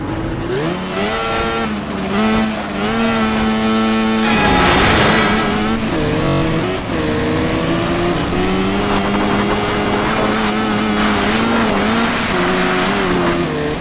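Race engines in the video game PURE rev hard and keep changing pitch as they climb and shift. Tires squeal and skid under a loud, continuous roar that never stops across the run.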